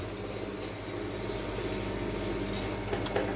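Used beer line cleaner draining out through a tube from a keg coupler in a pub cellar, a steady close trickling and gurgling wash of liquid that runs continuously with a few brief splashes near the end.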